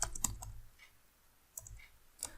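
Sparse, quiet clicks of typing on a computer keyboard come in small clusters, separated by a long near-silent pause in the middle.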